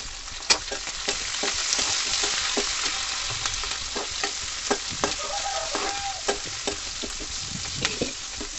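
Onions and peanuts being stirred in a hot pan, a constant close sizzle broken by repeated scrapes and knocks of a spoon against the pan, with no talk.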